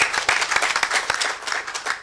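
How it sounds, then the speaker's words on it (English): Pageant audience gives a round of applause for a young contestant, lively crowd clapping with some distinct sharp claps throughout. "can we give Sotuli a big round of applause?"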